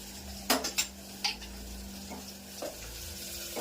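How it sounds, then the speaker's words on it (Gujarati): Stuffed bitter gourds frying in oil in a pan, with a low steady sizzle under a few sharp clinks and scrapes of a utensil against the pan, all close up and without speech. "અને થોડીક વાર તેલમાં આમને તળવા દેવાના એટલે ચણાનો લોટ હોય ને એ શેકાઈ જાય"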